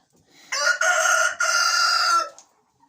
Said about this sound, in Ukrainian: Ось співає півник як ловко.